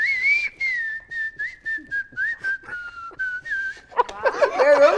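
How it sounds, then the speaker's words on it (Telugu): A person whistles a film song melody clearly and close, in a run of short sustained notes, before a burst of noisy chatter or cheering rises at the end. "చెప్పు విజిల్ లో ఈ పాట"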